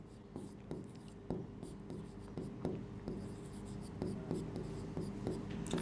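Chalk writes a road name on a blackboard in quick, tapping strokes and scratches, soft and steady, with a rhythmic pattern of small clicks over a faint background hum.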